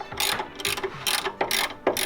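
Ratchet wrench tightening brake caliper bolts on a car, several quick bursts of sharp clicking in an uneven rhythm, close and fairly quiet, with no talk.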